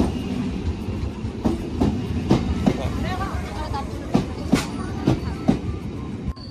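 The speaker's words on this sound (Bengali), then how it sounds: "ওই যে ফাইনালি ট্রেনটা আসছে। ডুকুর ডুকুর করতে করতে।" A train rolls into a village railway station, wheels clattering in a steady clickety-clack with repeated sharp metallic knocks over a constant rumble, fairly close, while people chatter faintly around it.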